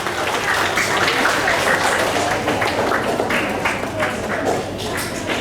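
An audience at a school inter-house Hindi recitation competition applauds steadily for a contestant, a dense, even patter of many hands clapping for several seconds without pause.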